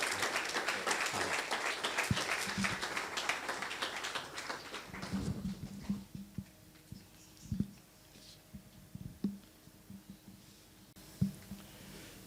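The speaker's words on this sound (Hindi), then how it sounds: "आज के कलाम को हम ज़ोरदार तालियों से वेलकम करेंगे" A church congregation applauds in a loud burst of clapping that fades after a few seconds into scattered claps and faint taps.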